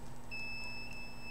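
A single steady electronic beep, high-pitched and sustained for about a second, over a low background hum.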